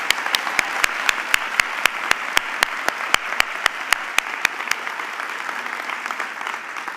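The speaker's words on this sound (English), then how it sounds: "Can we have one more round of applause for all our award winners?" A small audience gives a round of applause for award winners at a fall staff assembly, sharp distinct claps in a steady rhythm that thin out and stop partway through.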